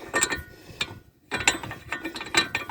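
A ratchet tightening a bolt on the CV axle of a 2007 Chevy Malibu, with rapid clicking bursts separated by a short pause, close and clear.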